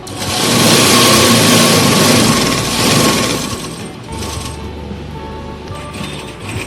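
A sewing machine stitches the side seam of a kurti, a loud close whirring run that eases off partway, then continues more quietly with lighter mechanical ticks, with no voice over it.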